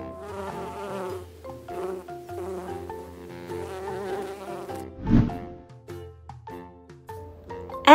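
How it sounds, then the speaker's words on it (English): Bees buzz in a continuous droning hum that wavers in pitch, close and fairly loud, with a brief rustle partway through. "Bees."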